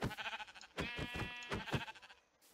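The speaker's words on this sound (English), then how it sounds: "Sheep!" Sheep bleating in Minecraft, several distinct wavering bleats in quick succession, close and fairly clear, with no talk over them.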